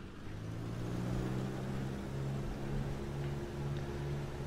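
Cessna 172R single piston engine at full takeoff power in the FSX flight simulator, a steady low drone with a hum that stays even throughout, fairly quiet and with no voices.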